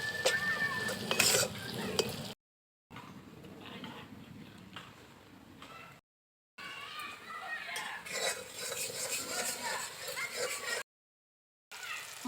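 Spices being stir-fried in a pan with a little water, soft scraping and clinking of a utensil over a gentle sizzle, broken by short silent gaps, with a faint rooster-like call early on.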